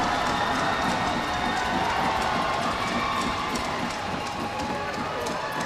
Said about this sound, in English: And the fans have something even louder to cheer about.